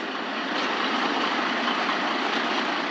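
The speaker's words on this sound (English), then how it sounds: "Truck's pulling something out of the ditch" Steady broadband engine rumble and road noise of a truck, continuous and even with no breaks, heard from inside a vehicle with no voices.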